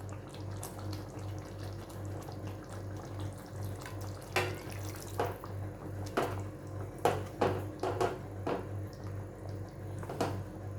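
Water runs and splashes into a cooking pot with scattered clinks and knocks over a steady low hum, fairly close.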